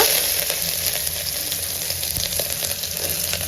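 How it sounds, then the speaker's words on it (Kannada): Onions frying in hot oil with mustard seeds and cumin, a loud, continuous close-up sizzle with occasional faint stirring, no voices. "ಈರುಳ್ಳಿ ಎಲ್ಲ ಚೆನ್ನಾಗಿ ಫ್ರೈ ಆಗಲಿ."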